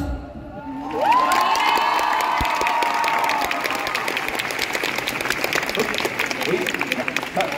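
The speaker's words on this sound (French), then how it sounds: "on applaudit bien fort" Audience at a Japan Expo cosplay contest cheering and clapping, a burst of whoops and shouts rising after a second, then sustained applause and crowd noise with voices mixed in.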